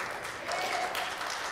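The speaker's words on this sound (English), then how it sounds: "That was a nice little golf clap, wasn't it?" Light, scattered applause from a church congregation at a Sunday morning worship service, a brief polite patter of hands lasting under two seconds at moderate distance.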